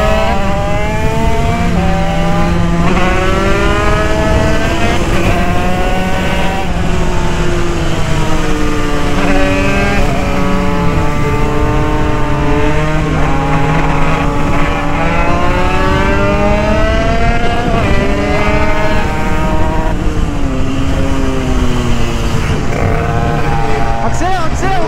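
An Italkit go-kart engine runs continuously and loudly up close, its pitch rising and falling as it revs through corners, with a voice speaking over it at times.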